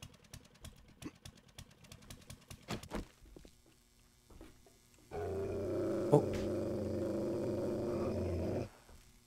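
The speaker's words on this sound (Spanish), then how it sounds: "Otro perro más." A zombie dog in the game 7 Days to Die growling, a low rumbling snarl lasting several seconds after scattered footsteps and clicks, close and steady.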